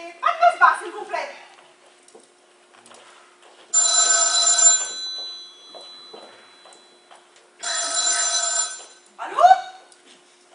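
An old telephone bell rings in two loud, sustained bursts indoors, with a person talking briefly before and after the rings.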